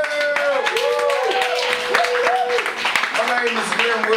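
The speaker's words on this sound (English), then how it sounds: "Y'all make some noise, give it up for yourself." A live audience at a spoken word poetry show claps and cheers loudly and continuously, with whoops and shouting voices rising over dense applause.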